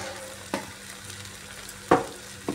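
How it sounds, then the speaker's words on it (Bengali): Pointed gourd sautéing with sugar and green chillies in a vegetarian dish makes a soft, steady sizzle, with three brief stirring knocks of the spoon against the pan. "চিনিটা দিয়ে আর একটু ভালোভাবে কষিয়ে নিচ্ছি।"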